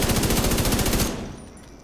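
Negev machine gun in The Division 2 fires a rapid, loud sustained burst for about a second, then stops and leaves a fading tail.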